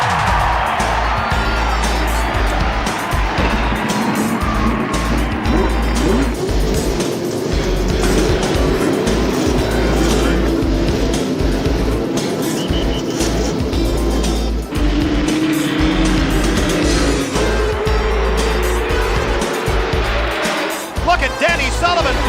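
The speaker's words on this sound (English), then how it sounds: "Gentlemen, start your engines." Indy cars at the 1980 Indianapolis 500 fire up and race, a loud, continuous engine roar with a broad rumble and shifting pitch lasting throughout, crowd noise mixed in and no clear talk.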